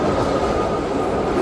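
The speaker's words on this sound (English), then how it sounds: "we got the BART subway into the city centre" BART subway train running underground in San Francisco, a loud, steady rumble and rushing roar of wheels on rail, close and continuous without a break.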